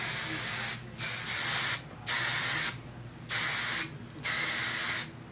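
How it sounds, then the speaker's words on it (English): Five long bursts of hairspray hissing close by from an aerosol can, each lasting about a second, separated by short pauses. "So what we're gonna do, we're just gonna flip it and start spraying"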